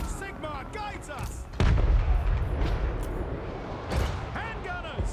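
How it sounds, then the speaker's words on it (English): Handgunner volleys in a Total War Warhammer 3 battle: a heavy, booming burst of gunfire that rumbles on amid layered battle noise, with soldiers shouting over it. "Handgunners! Shoot them!"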